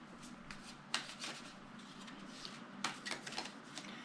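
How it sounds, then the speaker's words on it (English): Tarot cards being shuffled in quick riffling bursts, with a few sharper snaps and soft rubbing between, close and fairly quiet. "Here, let me just shuffle."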